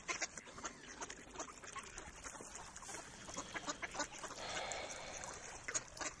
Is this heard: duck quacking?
yes